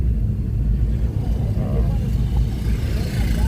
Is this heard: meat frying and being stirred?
no